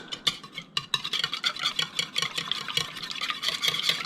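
Rapid whisking of whole eggs and yolks in a large bowl for carbonara, a quick, steady scraping and clicking rhythm that carries on alone throughout.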